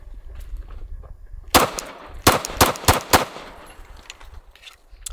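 A Glock pistol fires during a mud and snow torture test: one sharp shot, then a quick string of four more loud cracks with ringing tails, followed by quieter outdoor noise.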